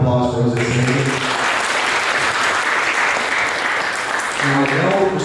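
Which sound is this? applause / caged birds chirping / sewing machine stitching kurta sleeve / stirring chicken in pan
applause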